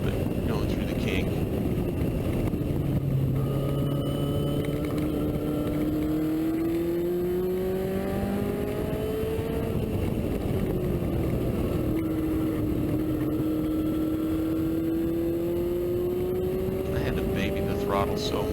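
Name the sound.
Lotus car engine at speed on race track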